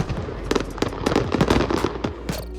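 Diwali firecrackers go off in a dense, rapid crackle of sharp bangs, loud and continuous, with overlapping pops and no voices.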